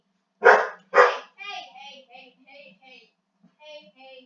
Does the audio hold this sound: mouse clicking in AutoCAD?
no